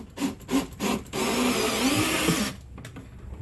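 A drill drives a longer screw through the corner of a metal coffee can into a wall stud, a steady whirring buzz lasting about a second and a half, preceded by several short bursts of rubbing and handling noise.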